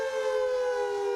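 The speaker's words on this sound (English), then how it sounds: "Whoa, we have air raid sirens for this?" An air raid siren sounds alone as a steady, sustained wail with a strong tone, held at an even loudness for the whole short moment.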